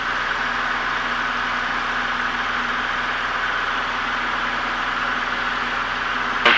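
A Piper Warrior III aircraft engine at full power for takeoff makes a steady, loud, unbroken drone heard from inside the cabin, holding even with a faint tonal hum beneath it.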